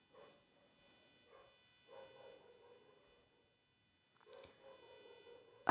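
Dog barking at night, a few faint, distant barks repeating at intervals over quiet background hiss with no talking.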